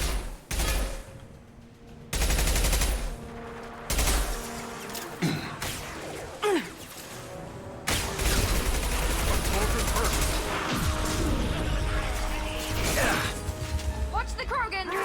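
Gunfire from the video game Mass Effect 2: a loud, dense stream of shots and impacts through most of the stretch, with brief pauses, mixed with game effects and a voice talking now and then.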